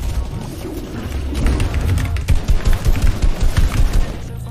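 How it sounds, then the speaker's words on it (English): Rapid gunfire in a Fortnite match: a steady run of quick, evenly spaced shots, moderately loud, building toward the end over a constant background rumble. "I just got shot from behind, by the way."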